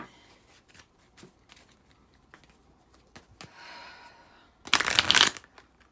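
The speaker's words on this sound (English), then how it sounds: "let me pull the last cards for you" Tarot or oracle cards being shuffled before a reading: scattered soft taps and slides from handling the deck, then a brief loud riffling burst near the end, close up and without talk.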